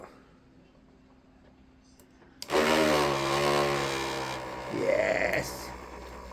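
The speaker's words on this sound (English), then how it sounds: "So I've just put the tap in the rotary drill." A rotary drill driving a tap for an RC semi truck upgrade starts suddenly and whirs loudly, its motor whine climbing in pitch, then runs steadily for several seconds.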